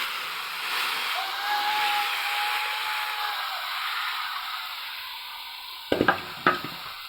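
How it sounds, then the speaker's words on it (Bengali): Radish greens hit a pan of fried dried shrimp, onion and chili, giving a steady sizzling hiss that ends in a few sharp scraping stirs near the end. "মূলার শাকটা দিয়ে দিচ্ছি"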